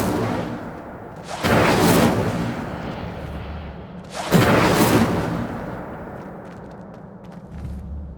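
Incendio fire spell cast in Hogwarts Legacy: two loud whooshing bursts of flame a few seconds apart, each swelling and fading over a low ambient rumble, with no talk.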